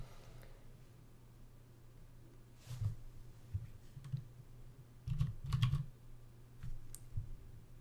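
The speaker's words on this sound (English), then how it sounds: "Folks are typing." Computer keyboard typing in a few short bursts of clicks, moderately close over a faint steady hum, with no talking.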